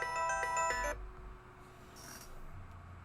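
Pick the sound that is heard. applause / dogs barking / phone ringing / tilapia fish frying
phone ringing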